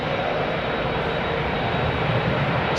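Rolls-Royce Trent 700 jet engines at London Heathrow give a steady, loud broadband roar that holds even for the whole stretch, with no clear rise in pitch and no voices.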